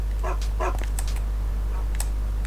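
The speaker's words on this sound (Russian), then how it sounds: "Так, там гавкают песики." Dogs bark in Mafia: The City of Lost Heaven on PS2, with a couple of quick barks early on and fainter yaps later, set against a constant low electrical hum.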